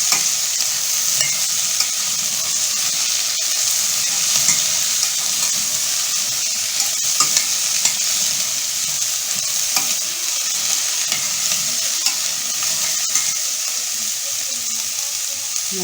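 Vegetables stir-frying in a pot for vegetable soup, a continuous bright sizzle with frequent small scrapes and clicks of a spoon stirring, close and steady throughout with no talking.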